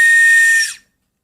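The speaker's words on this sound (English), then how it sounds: "So this whistle makes a beautiful sound." A toy whistle from a surprise toy box gives one loud, steady shrill blast lasting most of a second, then cuts off into silence.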